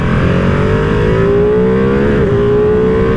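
A loud, close V-twin engine on a 2023 Ducati Panigale V2 Bayliss motorcycle roars continuously, its rumbling pitch climbing and dipping as the throttle is worked, with no talking.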